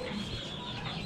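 Young chickens clucking softly at an open farm, a steady low murmur of close-by chirps and clucks with no talk.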